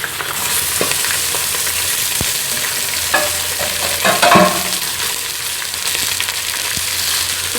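Chicken pieces fry with browned onions in a pan, giving a constant loud sizzle broken by a few scraping stirs and clatters of a spoon, close and with no talk.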